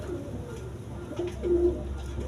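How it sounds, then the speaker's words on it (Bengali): A pair of Mosoldom pigeons cooing at close range, soft low coos rising briefly and swelling near the end over a steady background hum. "দর্শক এখানে এক পের মসলদম কবুতর আছে"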